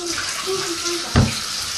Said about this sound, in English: this water isn't hot anymore, so I'm going to go change it, whilst Donald's going to talk to you